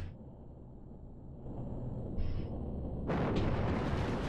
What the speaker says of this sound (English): A really big Aegis slash.